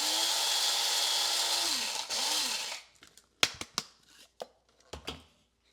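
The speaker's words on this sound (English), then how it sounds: "I'm going to grind them a little more." An electric grinder whirs loudly and steadily as it grinds coffee beans coarse for a French press, then stops, followed by several sharp clicks and knocks as the grinder is handled.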